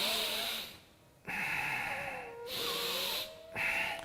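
Deep abdominal breathing, with slow, airy inhales and exhales heard close up in about four full breath cycles, separated by short quiet pauses.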